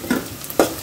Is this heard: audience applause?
no